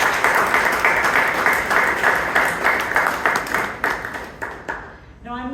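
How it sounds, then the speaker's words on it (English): Big round of applause from the audience at a Toastmasters club meeting in Bangalore, dense steady clapping throughout that tapers off near the end. "Let's have a big round of applause for Joel."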